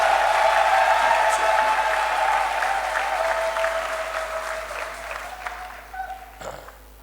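A church congregation claps and cheers in praise during a sermon, loud sustained applause with voices raised in acclaim that gradually fades toward the end, with a few remaining claps.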